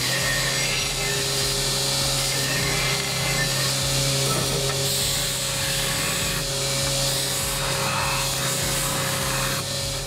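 A belt grinder runs continuously for about ten seconds, its abrasive belt rasping and scraping steadily against the cut metal edges of a knife grinding jig, with a constant motor hum underneath.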